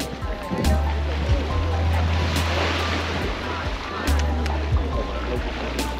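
Surf washes onto a beach on Thailand's Phi Phi Islands, a steady broadband rush of breaking waves with wind, and low rumbling swells rising and falling, while people talk in the background.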